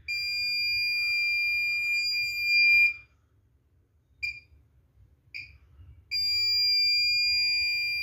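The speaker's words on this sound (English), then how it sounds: "Whenever I cross the safe distance, it will beep continuously." Arduino-based ultrasonic sensor distance alarm beeping: a continuous electronic tone for about three seconds, then a gap with two short beeps, then the steady tone resumes, loud and alone.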